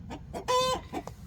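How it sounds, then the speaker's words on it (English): Backyard chicken clucking near a watercup drinking line, a run of loud, close squawking clucks with one drawn-out, strained call in the middle. "Looks like my chicken is going crazy here."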